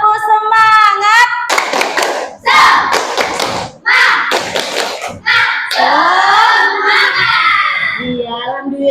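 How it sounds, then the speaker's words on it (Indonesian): A classroom of children perform a rhythmic spirit clapping chant, shouting sung lines in unison between bursts of sharp, synchronized hand claps, loud and close. "Tepuk semangat."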